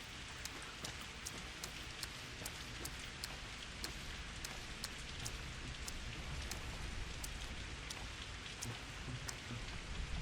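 Steady heavy rain pours down in the video game Pathologic 2, a dense constant hiss with sharp drops ticking through it, no voices.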